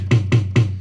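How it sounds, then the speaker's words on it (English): Three quick hits on a mid tom drum, slightly lower pitched than a high tom, evenly spaced, close and punchy with a short ring after each. "And then you've got a mid tom, it's a little lower in pitch."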